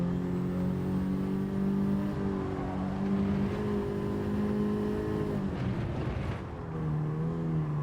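A car engine in a racing video game holds a steady, loud drone with shifting pitch, easing and rising as the car is driven, continuous throughout with a brief dip near the end.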